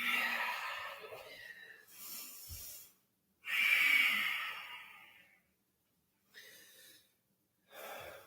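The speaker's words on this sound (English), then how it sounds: "Breathing." Loud, sighing breaths during a yoga flow from upward dog into downward dog, coming as several long exhale bursts separated by short silent pauses, close to the microphone.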